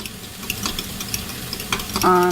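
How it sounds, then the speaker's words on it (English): Egg mixture being stirred quickly in a bowl with a utensil, a steady scraping swish with light clinks, close and moderately loud, with a voice briefly heard near the end. "I'm going to quickly mix the egg mixture that I made earlier"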